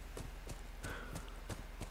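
Horse hooves clip-clop at a steady trot in The Last of Us, a rider travelling on horseback through the game world, with a row of evenly spaced, fairly close hoof strikes over a low background bed.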